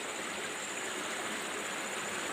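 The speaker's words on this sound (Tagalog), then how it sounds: "Yung patubig sa bukid." Water running steadily through a farm irrigation channel in rural Ilocos, a continuous close hiss and gurgle of flowing water with no pauses.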